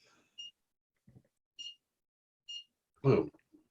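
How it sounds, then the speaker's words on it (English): Short electronic beeps sounding alone in a comedy podcast setting, three brief evenly spaced bleeps followed by a louder burst of noise, with otherwise near silence. "That beep really comes across really well"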